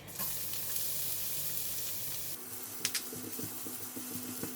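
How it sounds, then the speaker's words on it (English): Garlic fries in hot oil in a pan for tofu mee goreng, with a loud steady sizzle that drops to a softer crackling hiss partway through, broken by a few sharp stirring clicks. "Gonna add in a bit more oil. Put in the garlic."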